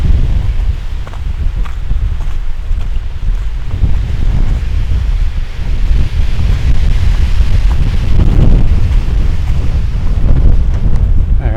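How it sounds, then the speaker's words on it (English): Strong wind gusts over an exposed hilltop in Dolly Sods, West Virginia, roaring loudly and continuously across the microphone with buffeting low rumble and rustling, no voices. "It's definitely windy, a little chilly."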